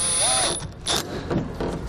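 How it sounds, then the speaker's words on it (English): A ratchet driving an 8mm screw into the side portion behind the wheel well trim of a 2012 BMW X6, with quick clicking bursts of the pawl and a few short turns, close up and alone. "we can reinstall our 8mm screw back into the side portion here behind this wheel well trim"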